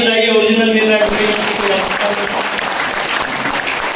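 An audience at a speech breaks into loud, sustained clapping that swells after a brief moment of someone speaking and continues dense and close until the end.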